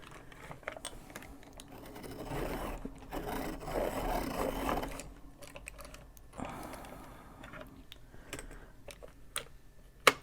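A colored pencil is sharpened in quiet, close rasping bursts, with a longer grinding stretch followed by a shorter one and small scattered ticks.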